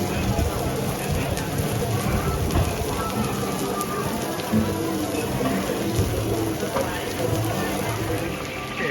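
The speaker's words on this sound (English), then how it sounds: "So here, he's deep frying a fish" A whole fish deep-frying in hot oil at a floating market near Bangkok crackles and sizzles steadily, with busy market voices and bustle underneath.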